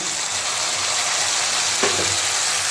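Spice paste with cumin fries in a pan, a steady close sizzle with a brief stir or scrape near the end.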